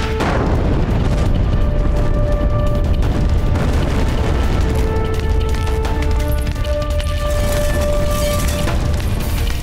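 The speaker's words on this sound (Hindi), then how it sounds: "मुगलों ने पुनः तोप के गोले दागना आरंभ कर दिया है।" Continuous low rumbling booms of heavy cannon fire in a historical TV drama battle, with a few sustained tonal whines riding over the din throughout.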